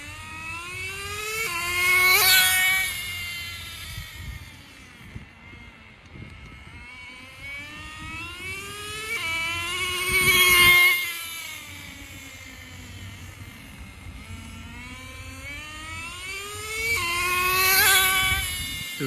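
Traxxas 4Tec RC car with a Pro .15 nitro engine making passes, its high buzzing whine rising and fading as it speeds by three times, louder on each close pass and softer between.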